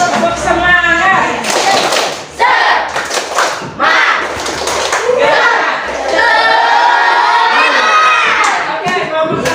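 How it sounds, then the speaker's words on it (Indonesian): A school class performs a rhythmic spirit clapping chant, with loud group claps, thumps and children's chanting voices all mixed together up close. "Sebelum maju, kita tepuk semangat dulu, biar semangat."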